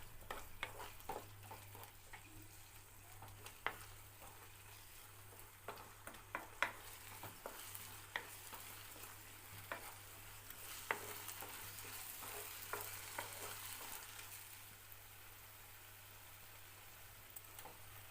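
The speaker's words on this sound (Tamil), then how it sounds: "இதோட பச்சை வாசனை போகிற வரைக்கும் நல்லா வதக்கிடுங்க ஒரு 5 நிமிஷத்துக்கு" Onions and ground masala paste sauté in a pan for chicken curry, a soft steady sizzle under repeated light scraping and tapping of a stirring spoon, fairly quiet and continuous throughout, no voices.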